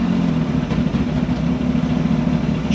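A steady, loud idle from a Yamaha R1 motorcycle engine in a spaceframe race car drones close by with a low, even burble and a constant hum, running alone without any voices.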